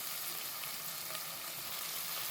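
Four large chopped onions sizzle and fry in hot oil until golden for a Chennai-style chicken gravy, a steady close crackling hiss with occasional stirring and no talk.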